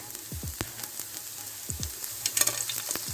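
Garlic and onion frying in oil for a mackerel rundown, with a soft continuous sizzle broken by several low thuds and stirring knocks and a brief brighter crackle near the end.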